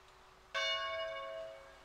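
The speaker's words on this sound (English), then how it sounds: "The bell that just dinged." A clock tower bell in the Chernarus area of a survival video game strikes once, a single clear metallic ding ringing on with a long, slowly fading tone, heard at a distance and quiet against faint background noise.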